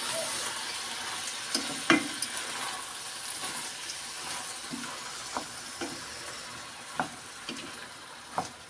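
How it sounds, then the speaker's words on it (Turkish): Quiet sizzling in a pot of purslane and lentils, with soft, irregular scraping and stirring knocks scattered throughout. "Şimdi güzel karıştırıyoruz"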